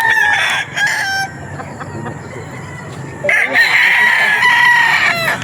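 A game fowl stag crows on a gamefowl farm, two loud, close crowing calls separated by a short gap, with faint background noise.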